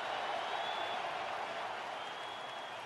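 A stadium crowd in the Cricket 22 video game during an India versus Pakistan match sends up a dense, steady roar and applause-like wash that holds evenly throughout with no pauses.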